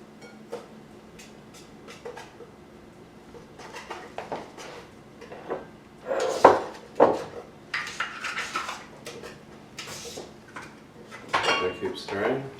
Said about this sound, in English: I keep stirring. Keep stirring.